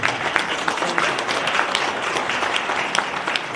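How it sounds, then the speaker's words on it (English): Audience at a community meeting on property tax reform applauding, a steady dense clapping that fills the room, loud and sustained throughout with no talk over it. "Give her a round of applause."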